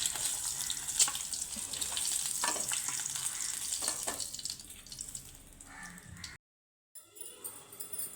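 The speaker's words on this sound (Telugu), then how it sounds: "నీళ్ళు ఒక బౌల్లోకి తీసుకుందాం" Water runs and splashes into a bowl in an uneven stream, with clinks and knocks, then stops abruptly before a short burst of noise.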